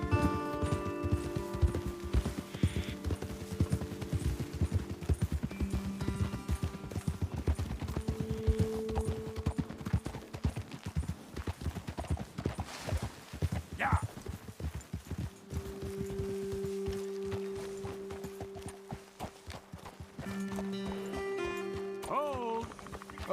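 Horses gallop in Red Dead Redemption 2, a steady rapid hoof clatter that runs throughout and eases toward a walk late on, with a faint whinny near the end and a voice speaking over parts of it.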